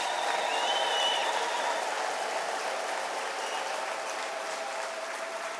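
A church congregation fills the room with steady, sustained applause, dense clapping holding at an even loudness throughout, with faint high ululation-like tones threading through early on.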